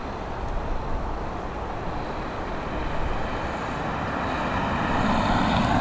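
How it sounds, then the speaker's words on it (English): An Aer Lingus Airbus A320neo arriving at Dublin Airport from London Heathrow makes a broad, distant jet rumble that swells gradually as it approaches. "The next of which is going to be this Airbus A320 Neo coming in from London Heathrow, operated by Aer Lingus."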